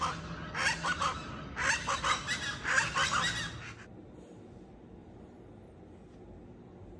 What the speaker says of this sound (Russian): Это у нас такие крикливые мексиканские птицы здесь.